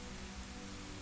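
Steady rain in The Legend of Zelda: Ocarina of Time, a dense, even hiss of drops pattering on surfaces with a low hum beneath, continuous and fairly loud for the full second.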